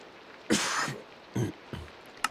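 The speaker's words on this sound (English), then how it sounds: "I am coughing a lot today." A man clears his throat and coughs in a few separate bursts, close to the microphone, with quiet pauses between them and one short sharp sound at the end.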